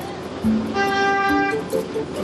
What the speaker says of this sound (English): No point honking me